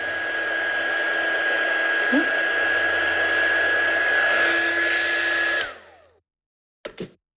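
A heat embossing tool blows hot air on vellum with a loud, steady whine and rushing airflow for about five and a half seconds. It then cuts off abruptly, followed by a brief clatter.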